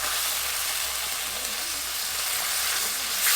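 Ginger and cumin paste sizzles steadily in a hot pan, a dense continuous frying hiss with soft bubbling underneath and a brief stir near the end, no talking.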